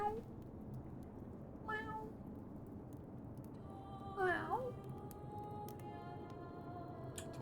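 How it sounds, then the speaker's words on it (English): A cat meows twice, short rising-falling cries a couple of seconds apart, quiet against low background noise and faint clicks. "There's a cat outside just lounging around."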